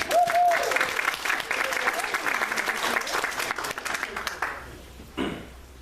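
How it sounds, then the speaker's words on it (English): Sustained, full applause from a standing audience at a talk, loud from the start and tapering off near the end, with a voice speaking over it at first. "Let's give ourselves an applause."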